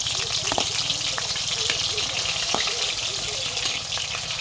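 Onions fry in hot oil in a pan, a loud, continuous sizzle with crackling pops and occasional scraping stirs throughout.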